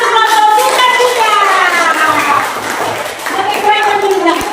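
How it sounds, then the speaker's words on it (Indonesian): Classroom applause for a student group, a brief burst of clapping heard under loud, overlapping children's voices and an adult talking nearby. "Tepuk tangan untuk kelompok sukacita."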